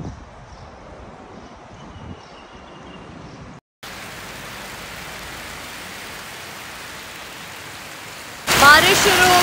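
Steady rain falls outdoors near a mosque, a continuous even hiss that drops out briefly and returns, then grows louder and brighter toward the end.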